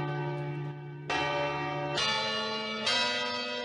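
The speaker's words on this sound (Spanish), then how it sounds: "tengo por aquí un audio con las campanadas" A recording of deep church bells chiming for New Year's Eve, one after another, each strike ringing out with a long resonant hum that overlaps the next, fairly loud and close.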